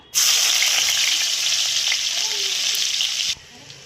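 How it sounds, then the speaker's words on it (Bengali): Garlic hits hot oil in a wok with a sudden loud, steady sizzle that holds for about three seconds and then cuts off abruptly. "প্রথমে আমি রসুন দিয়ে দেব"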